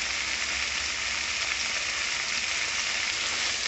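Mint chutney ingredients fry in a hot pan with a steady, close sizzle that stays level throughout, and no voices are heard.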